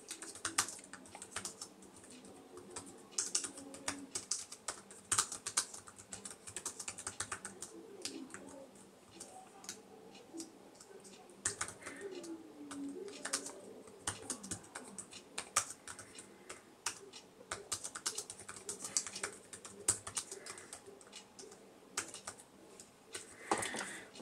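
Steady, fairly quick typing on a Microsoft Surface cover keyboard: a continuous run of soft, close key taps with short pauses, no talking.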